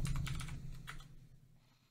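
Quick keystrokes tapped on a computer keyboard during invoice entry in accounting software, a short close burst of clicks that fades off into quiet within about a second.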